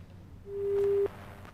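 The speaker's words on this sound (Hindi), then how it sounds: "चलिए, लगता है फोन डिस्कनेक्ट हुआ।" A telephone line disconnects during a news call, leaving a single clear tone that rises in and holds for about half a second before cutting off over faint line hiss.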